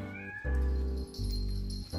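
A small cat meows repeatedly in a story setting, with two long, loud, close tonal calls separated by a short pause and a fainter call at the end, heard alone with no talk.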